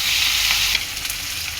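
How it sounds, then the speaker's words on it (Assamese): Onions frying in a pan with garlic and tomato, a loud steady hiss of sizzling oil close by that settles slightly softer partway through. "এই পিঁয়াজখিনি অলপ ৰঙচুৱা সৰহকৈ ভাজি ল'ম।"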